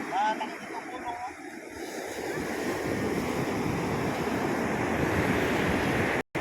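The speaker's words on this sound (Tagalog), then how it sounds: "Lakas ng alon." Strong ocean surf roars continuously with heavy wind buffeting the microphone, growing louder and fuller after the first couple of seconds.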